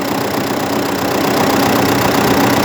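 An MTZ 952 tractor engine, just started, idles steadily with an even, continuous low rumble that holds at a constant level up close, with no voices over it.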